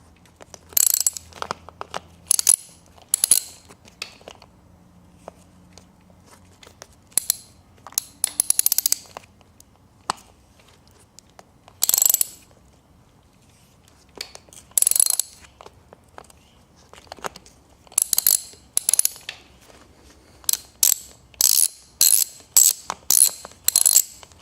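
A bicycle wheel is worked off the frame as its ratcheting freehub clicks in quick, crisp bursts separated by short pauses, close and fairly loud, and growing busier toward the end with no voices.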